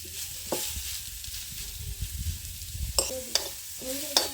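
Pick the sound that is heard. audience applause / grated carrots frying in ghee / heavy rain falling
grated carrots frying in ghee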